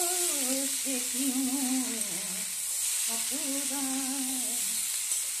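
Food sautés in a pan in a constant close sizzle, with a wavering tonal hum running over the hiss in two stretches.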